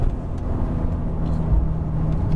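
Porsche 911 Turbo engine accelerating while driving, a steady, loud low rumble with a sustained drone running throughout, close to the car.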